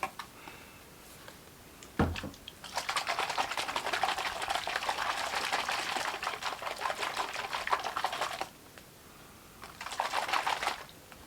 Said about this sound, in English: I'm going to shake this up until this water is cloudy.